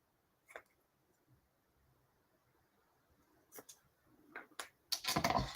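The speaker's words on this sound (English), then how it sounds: "Get my ribbon scissors and just have a chop at that" Ribbon scissors chop through craft ribbon for a column fold card, with a few sharp, quiet snips and small clicks scattered across a near-silent tabletop, growing into a quick cluster of rustling cuts at the end.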